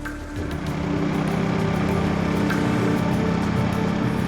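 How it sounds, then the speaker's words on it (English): A Ducati XDiavel S motorcycle exhaust drones steadily and loudly nearby, with a rough, throaty tone throughout. "There's this monstrous bellow that comes from the exhaust pipe"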